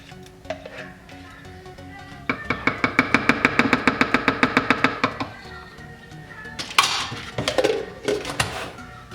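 Spoon work with Greek yogurt going into a NutriBullet blender cup: a fast, even run of small clicking scrapes against the container for a few seconds, then a few scattered louder clatters, close and with no talking.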